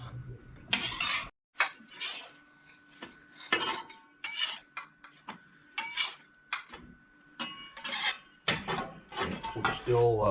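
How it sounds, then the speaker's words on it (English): A spoon stirs split pea soup in a pot on a wood cook stove, making a series of irregular clinks and scrapes against the pot with quiet gaps between strokes. "Give another stir to the split pea."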